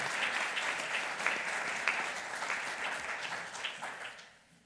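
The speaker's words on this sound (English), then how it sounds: "Clap them up." A crowd applauds at a club award presentation, brisk continuous clapping that fades out at the end.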